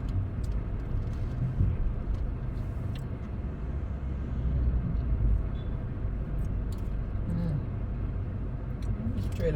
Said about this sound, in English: These trailer trucks are crazy.